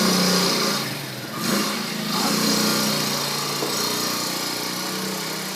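A quad bike's small engine drones loudly and steadily nearby, with its buzzing pitch dipping briefly and then rising again.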